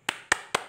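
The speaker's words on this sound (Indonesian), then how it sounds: "dan bertepuk tangan." Three sharp hand claps, evenly spaced and alone, demonstrated as a body percussion sound in a children's lesson.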